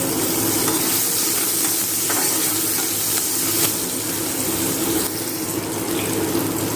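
Sliced onions fry in oil in a pan for egg curry, a steady, dense sizzle with faint occasional stirring.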